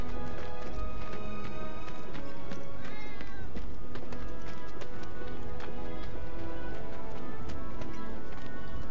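Cat meowing in the Final Fantasy 7 Remake video game, short meows rising over a busy game soundscape with rhythmic clip-clop footsteps and background music throughout.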